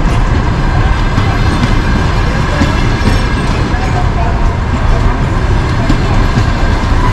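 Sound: long passenger train Stavropol–Adler passing the platform

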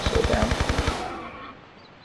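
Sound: MP5 gunfire at a dinosaur in the video game Tomb Raider 3

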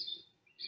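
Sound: bird chirping while grooming an elephant

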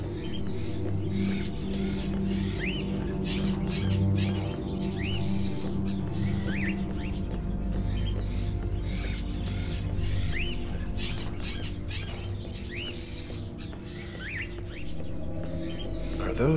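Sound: crows in cages, Fahrenheit Indigo Prophecy video game

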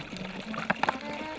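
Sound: water poured over beekeeping queen cage in a basin

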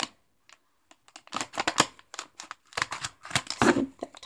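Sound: scissors snipping open top of Lego blind bag

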